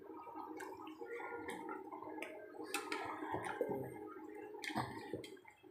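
A pot of fish curry bubbling on the stove, with soft irregular gurgles and wet pops rising and breaking close by, alone with no talk.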